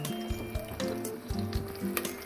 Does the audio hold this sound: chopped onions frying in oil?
yes